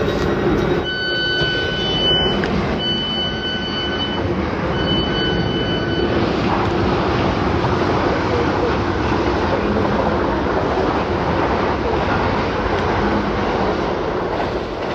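A train on the line to London Waterloo, heard from onboard near Surbiton, rumbles with a steady loud roar of wheels and motion throughout, with faint high whines in the first few seconds.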